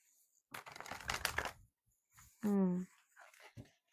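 Oracle cards being shuffled by hand in a quiet room, with a burst of papery riffling and flicking that stops and then resumes briefly, and a short vocal sound between the bursts.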